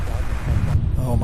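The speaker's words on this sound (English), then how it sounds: "Oh my, that wind." Gusty wind buffets the microphone at Louisville International Airport, a dense low rumble with broadband noise that surges and eases over a brief stretch, loud and close, with a shift partway through.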